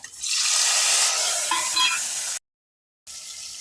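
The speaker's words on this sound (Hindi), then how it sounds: "पहले डाल रही हूँ इसमें हींग, डाल रही हूँ जीरा, किसा हुआ अदरक और हरी मिर्च, ये टमाटर" Asafoetida, cumin, grated ginger, green chilli and tomato sizzle loudly in hot oil in a pan, a steady close crackle with stirring that cuts off briefly and then resumes.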